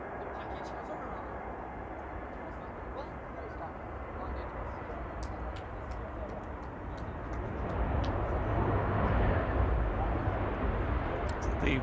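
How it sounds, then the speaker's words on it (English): An EasyJet airliner landing at Manchester Airport, a broad distant jet roar that swells gradually and grows louder toward the end, heard from the airport perimeter. "Aer Lingus Regional behind the landing EasyJet."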